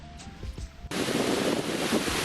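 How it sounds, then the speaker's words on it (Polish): After a brief quieter moment beside carp-fishing water, a sudden gust hits the microphone and becomes a loud, continuous roaring buffet of wind, with waves faintly beneath. "Wiatr się rozszalał tak, że pierdolony wieje jak cholera w naszą stronę."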